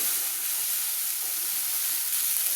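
Chana masala spices fry in a pan with a steady, bright sizzling hiss that carries on evenly from start to finish, with no talking.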